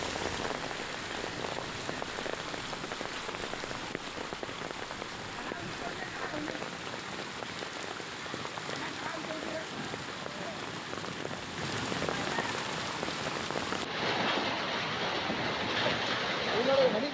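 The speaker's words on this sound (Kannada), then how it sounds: "ರಾಮನಗರದಲ್ಲೂ ಕೂಡ ಆಲಿಕಲ್ಲು ಸಹಿತ ಭಾರೀ ಮಳೆ ಬಿದ್ದಿದೆ" Heavy rain with hail falls in Ramanagara, with vehicles lined up nearby. It makes a steady, even hiss of downpour that continues throughout at moderate level.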